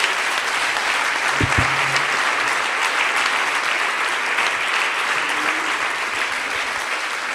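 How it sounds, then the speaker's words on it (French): An audience at the closing speech of the JNE in Arles applauds continuously, a dense, steady wash of clapping from a crowd that stays loud throughout, with a faint voice briefly heard underneath. "Merci de l'applaudir."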